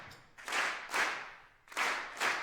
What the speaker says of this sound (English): Everybody must continue to clap.